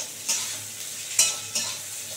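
Cauliflower fries in a pan under a soft, constant sizzle, broken by three brief stirring scrapes spaced about a second apart.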